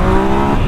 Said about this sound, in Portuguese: Ela tá falando de uma moto de 850 cilindradas, 3 cilindros.